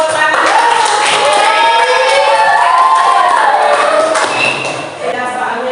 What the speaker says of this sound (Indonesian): Nia, kasih tepuk tangan.